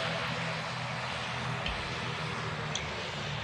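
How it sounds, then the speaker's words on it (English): A steady, droning aircraft engine in the Roblox game PTFS, running continuously and fairly loud throughout with no voices, with a faint click or two over the hum. "let's turn off the engines"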